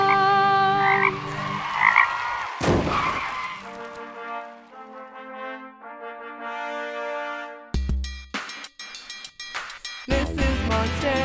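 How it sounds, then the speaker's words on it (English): Cartoonish frog croaks in a children's monster truck song, loud and repeated over bright music, with abrupt cuts, tire-skid effects and brief silences between bursts. "frogs."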